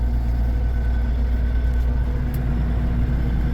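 An old tractor engine drones steadily at close range while the driver works the two-handed gear shift and clutch, a constant low rumble with no talk.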